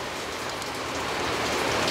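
Steady rain falls throughout in Cần Thơ, a dense, even hiss of drops with no speech.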